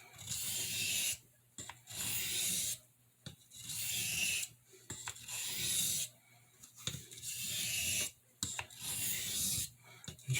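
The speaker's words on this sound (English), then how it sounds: "And sharpen the blade." A steel pen blade on a Boker C75 jigged bone pocketknife being sharpened, repeated rasping strokes on a stone in an even rhythm with short pauses between passes, close and alone.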